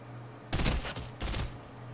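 Gunfire in the video game Risky Reels: two short bursts of rapid shots at close range, the first longer and louder, the second briefer, with quiet game ambience between and after.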